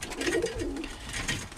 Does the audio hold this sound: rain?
no